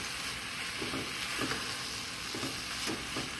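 Ingredients for a salt cod cake fry in a pan with a steady, close sizzle and crackle, broken by a few soft stirring scrapes, with no talking.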